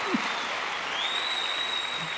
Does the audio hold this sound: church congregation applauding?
yes